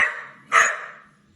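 A dog barks at close range while being taunted: a sharp bark rings out and fades, following the tail of an earlier one.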